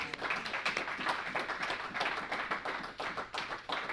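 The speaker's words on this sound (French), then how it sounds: "Acclamons pour le Seigneur Jésus." Church congregation clapping steadily throughout, a dense, continuous patter of many hands at fairly close range with no speech.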